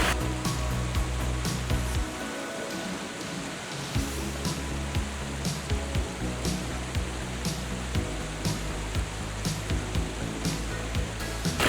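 Backyard waterfall spilling into a built stream, a steady close wash of falling water with a brief dip in low rumble midway, no one talking.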